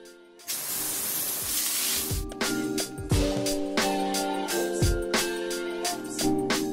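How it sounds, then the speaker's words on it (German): Water sprays steadily over vegetables being washed and disinfected in a factory, a continuous loud hiss joined by rhythmic mechanical clunks and a humming machine drone. "Nach der Ernte wird das Gemüse in eine Fabrik transportiert, wo es sorgfältig gewaschen und desinfiziert wird."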